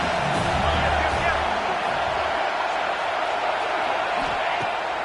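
A home crowd roars steadily throughout a college football game featuring Kentucky as the defense tries to get off the field on third down, a dense, sustained wash of cheering.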